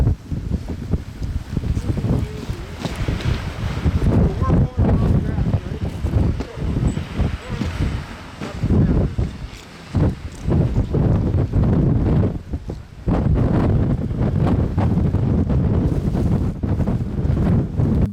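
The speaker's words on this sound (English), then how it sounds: "here comes the wind shift." Gusty wind roars across the microphone on Mammoth Mountain as the wind shifts, loud buffeting bursts with brief lulls, and a voice can be heard intermittently underneath.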